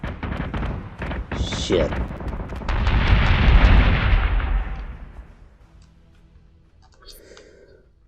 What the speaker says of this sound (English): Missiles incoming! Berserk is taking damage.